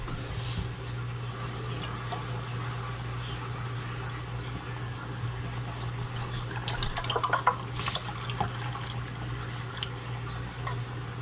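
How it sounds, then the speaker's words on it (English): Tap water running into a small tomato sauce can in a kitchen, a faint steady trickle with occasional drips and splashes over a low background hum. "I'm going to fill my little tomato sauce can with water also."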